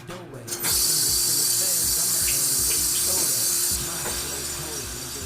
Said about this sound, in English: So now I'm going to wash my steak.